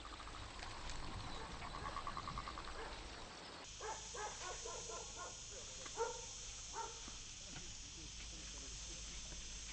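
A dog barks in a short run of sharp, repeated yelps in the middle of a dramatic indoor scene from a TV series. The barks sit under and between voices talking and sound moderately distant.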